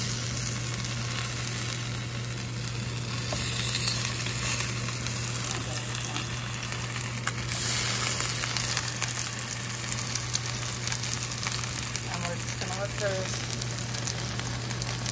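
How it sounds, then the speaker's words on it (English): Potatoes sizzle in an extra-hot pan, a dense, even crackle that runs the whole time, with a low steady hum underneath. "You're just going to put the potatoes right in there to cook."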